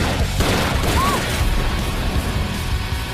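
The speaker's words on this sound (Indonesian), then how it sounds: "sehingga terjadilah baku tembak di antara mereka" Gunfire from a film shootout scene between a criminal gang and a man protecting a woman, heard as a dense, loud, continuous barrage of shots and booms throughout.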